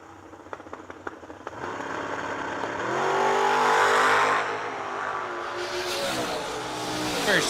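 Drag racing cars, including a Nova with wheelie bars, launch down the strip at a Yellow Bullet Nationals event; loud engine roar builds after a few seconds of idle crackle and holds steady, then swells again.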